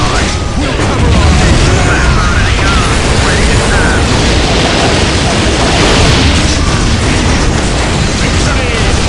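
Rapid explosions and booms from a strafing run in the Warhammer 40,000 game Dawn of War Soulstorm with the Imperial Guard, dense and loud throughout, mixed with battle noise and unit voices.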